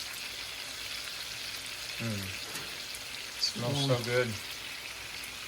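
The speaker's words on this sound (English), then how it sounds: "we're going to add butter to the pan, and we're also adding our garlic" Butter and garlic fry in a pan with a continuous soft, hissing sizzle; a person speaks briefly over it.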